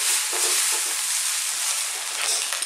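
Vegetable fried rice sizzles steadily in a hot pan, a loud, dense frying hiss with soft stirring scrapes running throughout, no voices.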